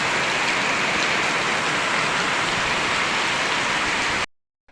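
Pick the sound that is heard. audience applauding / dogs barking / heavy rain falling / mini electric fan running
heavy rain falling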